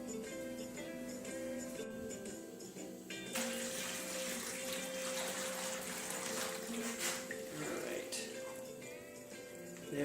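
Water runs from a tap and splashes into a pan, filling a water bath around a cheesecake before baking, a steady gushing stream that grows louder partway through and continues close up, with no speech.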